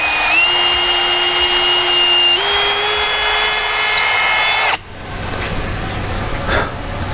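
A power drill whines steadily for several seconds while drilling straight down into a Morgan Milwaukee 40A vise during restoration, its pitch stepping up partway through, then cuts off abruptly, leaving quiet room noise.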